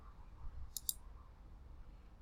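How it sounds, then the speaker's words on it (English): Two crisp mouse clicks in quick succession on a website's follow button, sharp and close against a quiet background hum. "Just going to go ahead and click follow here."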